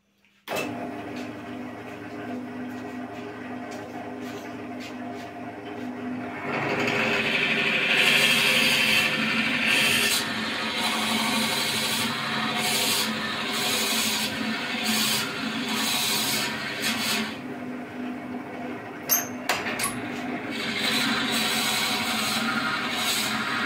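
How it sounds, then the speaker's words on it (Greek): A steady mechanical whir of a spinning wood lathe, joined by a louder grinding hum as a 35 mm drill bit bores into wood, with rhythmic scraping pulses. "θα κάνουμε εδώ μία τρύπα με ένα τρυπάνι 35 χιλιοστών"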